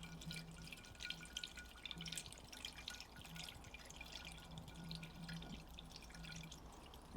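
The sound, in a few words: water poured into Metro 6R4 cooling system, dripping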